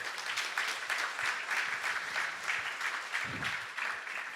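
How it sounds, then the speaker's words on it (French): A church congregation applauds during a sermon, a fairly faint, steady patter of many hands clapping in a reverberant hall, with a brief low thump partway through. "On peut applaudir le Seigneur encore."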